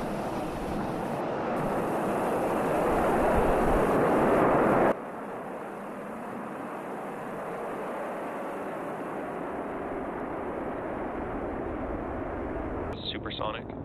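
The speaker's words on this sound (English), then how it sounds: "Ignition. And liftoff." Falcon rocket launching two private lunar landers roars with a loud, dense broadband rumble, strongest in the first five seconds and then steady and sustained, while announcers talk over it.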